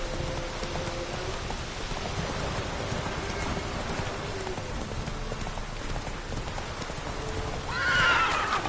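Roach, a horse in a PS4 video game, gallops with steady hoofbeats over a constant wash of rain, and a sharp neigh rises near the end.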